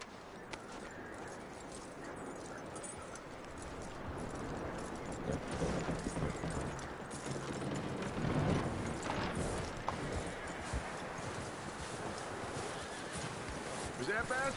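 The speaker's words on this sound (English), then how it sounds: "That looks like a decent horse." Horse hooves in Red Dead Redemption clip-clop in a steady walking rhythm, fairly quiet and mixed with wind-like ambience, while a voice talks over them.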